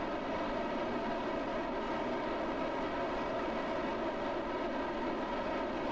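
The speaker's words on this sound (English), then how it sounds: "Throttle up. And 3, 2, 1. Ignition. Lift off." A Rocket Lab Electron rocket's engines roar at liftoff as a steady, dense broadband rumble that stays constant and loud throughout, with no voices over it.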